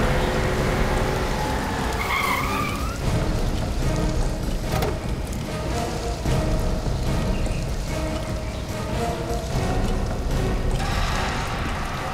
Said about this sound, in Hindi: कोई गाड़ी आई है।